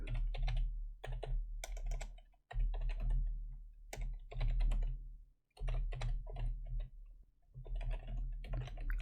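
Computer keyboard typing in quick, irregular bursts of clicky keystrokes, close and fairly quiet, with short pauses between runs.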